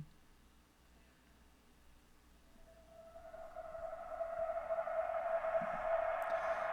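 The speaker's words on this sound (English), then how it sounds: "I have this effects riser" A synthetic riser swells from near silence into a bright, rising tone that builds steadily louder over several seconds.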